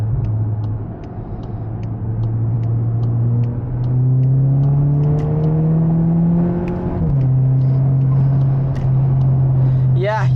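A modified 2022 VW Golf GTI Mk8 pulls hard at full throttle, its engine droning and climbing steadily in pitch with a brief dip at a gearshift before rising again, loud and close from inside the cabin.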